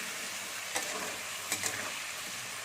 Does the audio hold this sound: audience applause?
no